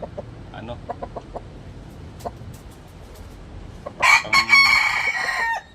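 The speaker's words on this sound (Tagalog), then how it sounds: "Manok panabong." A gamecock rooster crows loudly and close by in a single long, harmonic call after a few seconds of quiet with scattered faint clicks.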